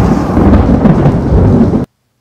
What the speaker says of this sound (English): I feel like a storm's about to break.